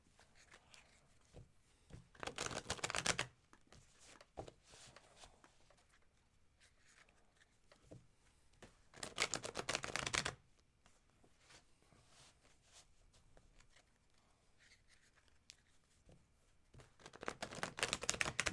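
Tarot cards being shuffled during a live reading, three separate bursts of quick riffling and rustling with quieter handling noises between them, close and fairly soft, no talking.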